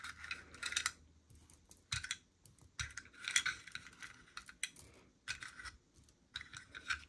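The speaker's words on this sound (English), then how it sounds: "now we're just gonna empty out our box of colored beads that we have saved from our game" Small colored beads tip out of a box onto a table during a Montessori addition snake game, clattering in repeated bright rattling bursts with short pauses, close and fairly quiet, no voices.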